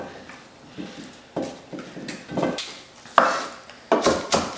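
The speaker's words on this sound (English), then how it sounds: "We're going to toss all the vegetables with a little bit of olive oil" Vegetables tossed with a little olive oil in a metal pan, a series of irregular clattering knocks and scrapes of food and utensil against the pan, close and fairly loud, with no talking.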